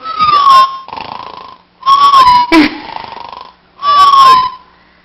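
A voice imitates loud snoring in three long, wheezy, whistling bursts separated by short pauses, close and very loud.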